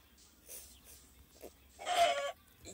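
Chicken clucking in a video game, a few short soft calls with one louder, brighter squawk-like burst near the end, heard alone with no talk.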